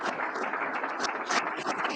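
An audience at a 2024 State of the Town address claps together in a steady, fairly soft wash of applause, with no voices over it.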